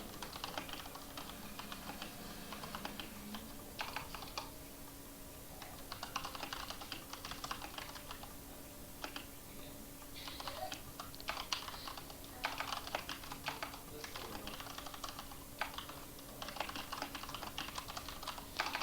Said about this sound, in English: these pauses happen when I'm typing something to somebody on the chat